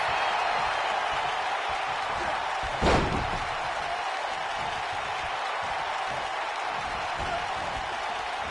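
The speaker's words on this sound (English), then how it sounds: "And this crowd's starting to perk up, Michael." Steady, dense crowd roar from a WWE 2K19 wrestling match fills the clip at an even level, broken by one sharp slam-like impact about a third of the way through.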